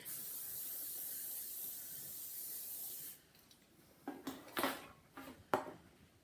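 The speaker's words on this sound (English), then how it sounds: "spray it with cooking spray" A steady hiss of aerosol cooking spray onto a cookie sheet runs for about three seconds, followed by a few short, sharp spritzes and light clatter.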